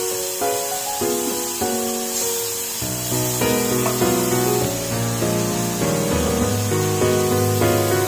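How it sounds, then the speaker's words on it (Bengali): Prawns frying lightly over a medium flame in a pan give a steady, soft hiss of sizzling that runs throughout, largely under louder background music. "হালকা করে ভেজে নিচ্ছি।"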